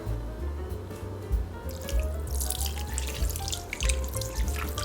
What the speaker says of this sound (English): Next is to add soy sauce, and you have to make sure it's a Filipino soy sauce.